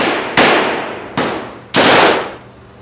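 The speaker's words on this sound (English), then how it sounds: "Are you kidding me with his gunfire?" Gunfire in a zombie video game cracks out as three or four loud, sharp bangs at uneven intervals, each followed by a long, fading echo.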